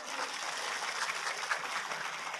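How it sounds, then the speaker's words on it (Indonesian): An audience at an Islamic religious lecture claps steadily and densely throughout, a continuous moderate wash of applause with no one speaking. "Tepuk tangan dulu dong."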